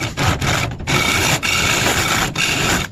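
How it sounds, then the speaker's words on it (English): Drilling a 3-inch hole into a Honda car part for an AWD conversion kit, a loud grinding rasp in bursts separated by brief pauses, close-up with no talk. "we drilled it out to a 3-inch hole"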